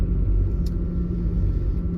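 A tractor engine rumbles steadily nearby, a low continuous drone without clear rise or fall, with no talking over it.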